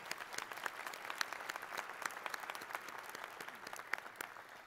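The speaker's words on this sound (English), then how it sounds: "Please recognize those with your applause." Scattered audience applause at a university graduate school commencement ceremony, heard as faint, steady clapping from a distant crowd with no talk.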